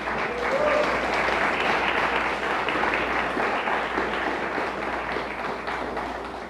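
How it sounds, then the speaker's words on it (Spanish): A church congregation applauds in praise, a dense, sustained round of clapping that starts strong and gradually tapers off over several seconds. "Dele fuerte el aplauso al Señor."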